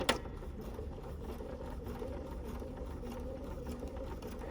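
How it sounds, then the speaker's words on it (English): A BERNINA sewing machine fitted with a #55 leather roller foot stitches over cording in a steady, even mechanical whir, opening with a small click and running close and constant without speech. "So I'm going to stitch."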